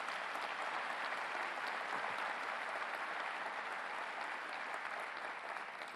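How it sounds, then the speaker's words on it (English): Audience applause at a city address, sustained dense clapping from a large crowd, steady and moderately distant for the whole stretch with no talk over it. "Let's give them a round of applause."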